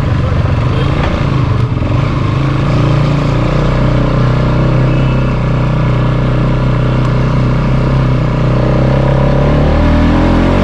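A motorbike engine runs steadily and loudly close by at Holy Cross Higher Secondary School in Sonada, a continuous mid-pitched drone with no break.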